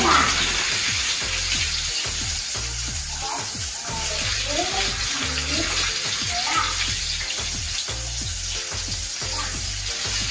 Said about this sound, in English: I'm going to add some water to this and mix it now.